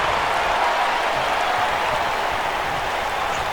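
A crowd at a live professional wrestling event applauds and cheers in a dense, steady roar that holds evenly throughout.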